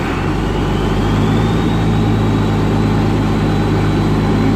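Engine runs loud and close in a steady, heavy low rumble as a little throttle is given, the pitch rising slowly and slightly with no sharp rev.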